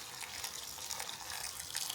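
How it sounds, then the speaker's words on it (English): Boiling water from a kettle poured onto meat in a pot while making Cantonese lamb curry, a steady close hiss and splash of running liquid that holds evenly for about two seconds with no talk. "Now add boiling water from the kettle, just enough to cover the meat."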